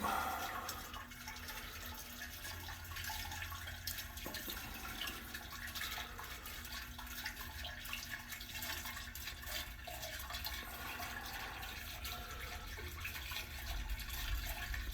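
Water rising inside DWV drain pipe during a plumbing leak test, heard as a faint, steady hiss and gurgle of filling liquid that continues with little change for about fifteen seconds, with no voices.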